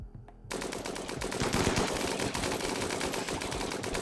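Rapid automatic gunfire and overlapping shots from a RimWorld battle in a Western-themed playthrough, a dense sustained fusillade that starts abruptly after a half-second of quiet and stays loud to the end.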